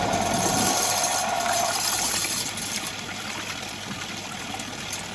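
Koi fish in a garden pond, water at just under 20 degrees, surge forward for food with a loud rush of splashing water at the start that eases into a steady running-water wash.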